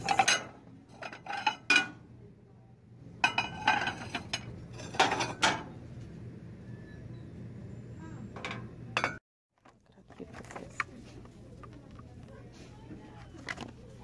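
Dollar Tree dishes in different colors are handled, with sharp clinks and clatters in clustered bursts close up, then quieter shuffling and a few lighter taps.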